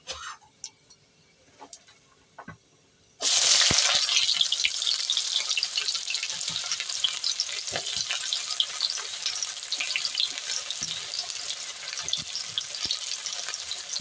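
Onions dropped into hot oil in a pan after green chillies: a quiet start, then a loud, sudden burst of sizzling that settles into a steady, close crackle with occasional stirring.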